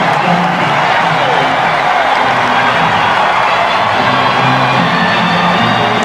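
A home crowd at a Detroit Tigers day game roars loudly and steadily after a walk-off grand slam, a dense wall of cheering and whoops sustained throughout.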